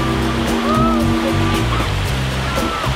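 Sea waves washing onto the beach at Bloemendaal, a steady broad wash of surf with low rumbling undertones and faint whistle-like tones, continuous and fairly near throughout.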